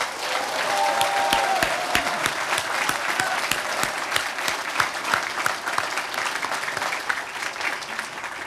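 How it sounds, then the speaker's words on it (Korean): A crowd of party founders claps vigorously at a political party launch rally, sustained loud applause with sharp individual claps standing out, continuous from start to finish. "힘찬 박수로 촉구합시다"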